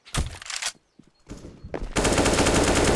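Rapid automatic gunfire and single shots in a Counter-Strike: Global Offensive match, loud and close, starting with short bursts and ending in a sustained, dense volley.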